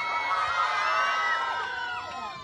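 Audience members at a gay pageant's national costume segment cheer and whoop with high, excited voices, a lively crowd shouting together that gradually eases off.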